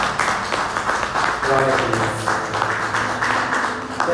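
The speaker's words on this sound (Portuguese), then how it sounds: "Você pode aplaudir a palavra do Senhor em nome de Jesus." A church congregation applauds during a sermon, a steady wash of clapping running under a voice as he speaks.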